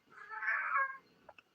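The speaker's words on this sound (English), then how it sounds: "quiet little cat." A small cat gives one drawn-out, wavering meow that is close and clear, followed by a couple of soft clicks, with no talking.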